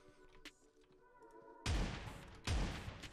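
Two heavy shotgun blasts from PUBG Mobile, each a sudden loud boom with a decaying tail, spaced under a second apart after a quieter stretch of game ambience and small clicks.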